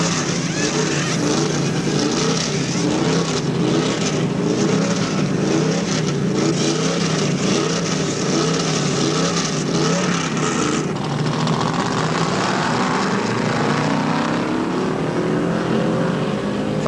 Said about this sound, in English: Another top contender, Darrell Waltrip, slides his Chevy into the pits for that same rubber and fuel treatment